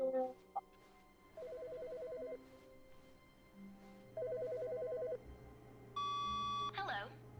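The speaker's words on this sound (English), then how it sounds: "The phone's ringing." A telephone rings in the video game The Stanley Parable with two long trilling bursts of electronic ringing, separated by quieter game tones and followed by a brief click and beep.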